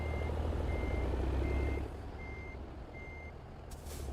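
A heavy diesel truck engine in American Truck Simulator rumbles low and steady while reversing, with a repeating reversing beep sounding at regular intervals and a brief hiss near the end.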